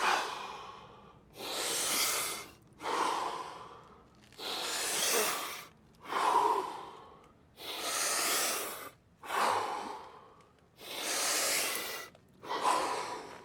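Eight or nine deep, forceful breaths of a Wim Hof breathing exercise, each a long rushing inhale or exhale separated by short pauses, close and clear with no talking.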